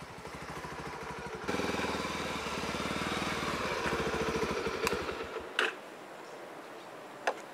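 A motorcycle ride with a steady engine drone and rhythmic ticking clatter, loud and continuous, jumping in level partway through and then easing off, followed by a couple of sharp knocks near the end.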